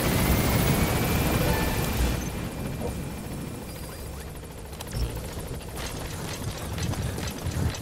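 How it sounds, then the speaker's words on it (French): Helicopter in the video game Metal Gear Solid 5, a broad, loud rotor rumble that is strongest at the start, then settles into a steady, slightly quieter drone with scattered faint clicks. "On a un hélicoptère à détruire."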